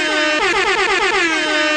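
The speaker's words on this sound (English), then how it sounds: "Let me hit my air horn in this" A loud air horn sound effect blares alone for about two seconds with a bright, wavering, multi-toned blast.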